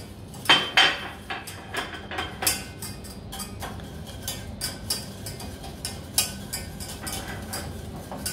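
Butter whisked into a saffron beurre blanc emulsion in a pan, a whisk tapping and clicking against the metal in quick irregular strokes, louder at first and then steadier and softer.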